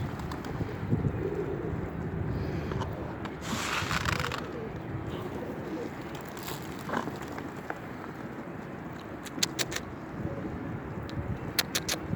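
A Mardin blue-mirror pigeon coos in low, soft murmurs against a steady background hum, with a few faint clicks and jangles scattered through.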